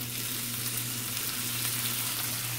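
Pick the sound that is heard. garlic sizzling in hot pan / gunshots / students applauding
garlic sizzling in hot pan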